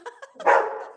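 A dog barks at close range in a home: a few short yips, then one louder, fuller bark that trails off, with no talking over it.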